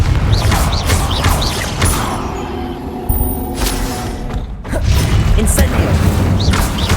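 Fiery Confringo spell blasts in Hogwarts Legacy gameplay land amid dense, continuous combat noise, with sharp booming hits and crackling debris. A brief lull follows before the roar resumes.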